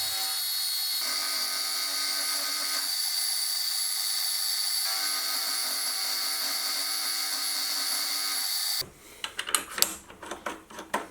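A carbide end mill cuts a slot in a machine shop with a steady high-pitched whine for about nine seconds, then gives way to irregular clattering bursts and knocks.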